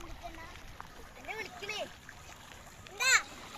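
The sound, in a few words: child splashing and playing in floodwater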